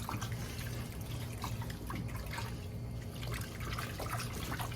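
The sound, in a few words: broccoli being stirred and rinsed in warm water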